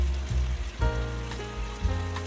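Balushahi dough balls fry gently in hot ghee over low heat, giving a close, steady soft sizzle and bubbling with a few faint clinks and shifts, and no talking.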